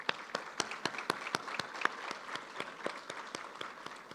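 Applause at an outdoor graduation ceremony under a tent, a small group clapping in an even, steady rhythm of distinct claps for about four seconds, moderately close with no talking over it.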